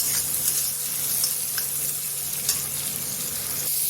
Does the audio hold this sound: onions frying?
yes